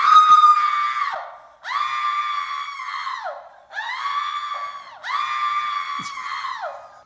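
A crowd at Wrigley Field lets out a series of four long, loud, sustained screams. Short breaks separate each burst.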